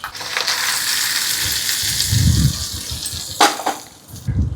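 Hot tempering oil is poured onto a ginger buttermilk curry with a loud, steady sizzle and crackle, a brief splash and sharper burst partway through, then settling.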